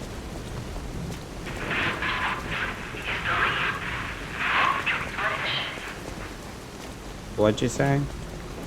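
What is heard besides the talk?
rain and thunder in the video game Lies of P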